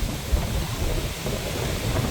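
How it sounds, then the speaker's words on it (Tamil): Strong wind blows without letup around a flooded Amman temple in Manipay, a loud, rough rush with low buffeting thumps against the microphone. "நல்ல காற்றடிக்குது."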